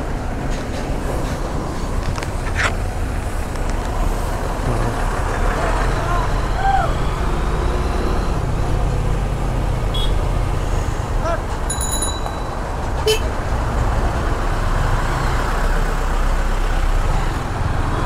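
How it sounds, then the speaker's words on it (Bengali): Road traffic noise from a jam of trucks and covered vans in Chittagong, a steady, dense engine rumble throughout with a few faint horn and bell beeps near and far. "এখানে একটু ট্রাকের একটা কভার্ড ভ্যানের একটা জ্যাম আছে।"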